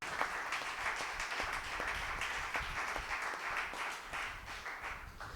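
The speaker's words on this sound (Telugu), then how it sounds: "గట్టిగా దేవుని చప్పట్లు కొడదామా ప్రియమైన బిడ్డలారా?" A congregation at Holy Mass claps hard and fast, a dense run of sharp hand claps in a quick, steady rhythm that carries on throughout.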